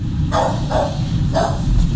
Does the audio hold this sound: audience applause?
no